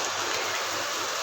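Dirty floodwater rushes past houses, a dense, steady wash of flowing water with no break.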